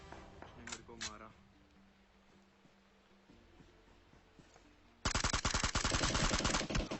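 Gunfire from a fight in the mobile battle-royale game PUBG Mobile: scattered shots early on, then a loud, rapid automatic burst that fills the last two seconds.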